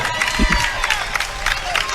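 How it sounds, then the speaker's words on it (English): Home crowd at a high school boys basketball game giving a round of applause, a steady wash of clapping and murmuring cheers from the stands, fairly loud and continuous. "As Muthu gets a round of applause from the Lincoln audience tonight"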